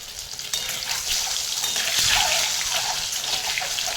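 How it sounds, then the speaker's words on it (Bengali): Slices of pointed gourd (potol), coated with turmeric, frying in hot oil in a pan, giving a steady broadband sizzle that swells slightly midway, close and alone with no talk. "ও পটল ভাজা খেতে চায় না, ওই জন্য একটা পটল ভাজা করেছি।"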